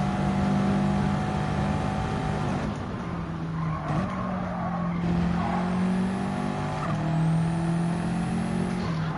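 Race car engine in the video game Gran Turismo 7, driven hard on track: a loud, steady engine drone that rises and falls in pitch with gear changes, with some tyre noise and no talking.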